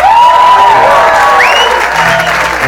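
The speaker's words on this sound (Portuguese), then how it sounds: "Os aplausos" Concert audience applause for a band: a dense, steady wash of clapping and crowd noise that stays loud throughout, with faint tonal sounds drifting above it.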